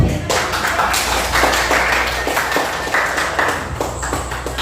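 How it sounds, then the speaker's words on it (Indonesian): Audience applause in a classroom or training session, a steady patter of many hands clapping close by, continuous and moderately loud for several seconds. "Sekarang kita berikan aplaus untuk"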